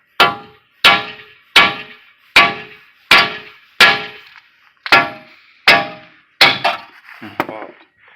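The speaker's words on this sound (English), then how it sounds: "I'm supposed to be able to just whack the side of that spindle." Hammer whacking the steering spindle of a 2009 Dodge Charger during tie rod replacement, about ten loud ringing metallic clangs spaced evenly, each ringing out briefly, close and without talk.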